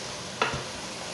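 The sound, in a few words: scraping bottom of pan while cooking onions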